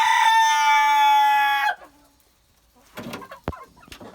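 A rooster crows loudly and close inside a henhouse for under two seconds, followed by quiet, then a few faint clucks and scuffling sounds.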